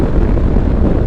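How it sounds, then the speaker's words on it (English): Wind gusting and buffeting the microphone on a mountain road along the Icefields Parkway, a dense, steady roar filling the whole moment without pause. "There's a wind too."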